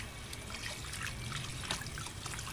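Cold tap water from a hose trickles and splashes while freshly caught food is rinsed after boiling, a faint, steady close running-water sound without talk.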